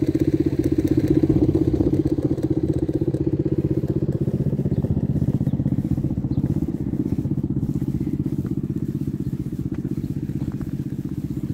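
A motocross bike engine idles close by with a steady, rough, rapid putter that stays constant throughout.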